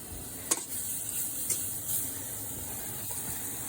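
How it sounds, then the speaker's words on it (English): Hen of the woods mushroom is stirred into a roux in a pan, a soft steady sizzle with a few faint scraping taps from the utensil, quiet and close. "I'm gonna throw my mushroom in there. I'm gonna stir it around in that."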